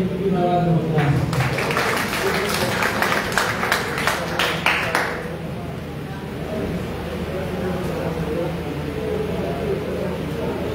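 An audience claps at a DeMolay chapter public installation ceremony. A dense burst of clapping fills the first half and fades into steady room noise.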